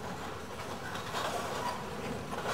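A BNSF freight train rumbles past at a distance, a faint, steady rolling roar with a soft rattle throughout and no voices.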